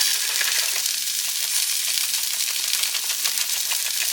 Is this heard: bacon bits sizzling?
yes